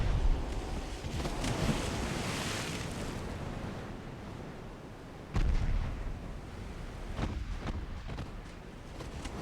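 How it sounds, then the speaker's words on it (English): A heavy 18-inch battleship gun shell strikes home in a naval warfare game, one sudden loud boom halfway through, set against a steady rumbling wash of wind and sea with distant thuds around it. "Yep, 18-inch gun just hit."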